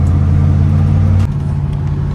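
A 1988 Chevy box truck engine idles loud and close with a steady low drone, its tone dropping and settling partway through as the truck pulls up.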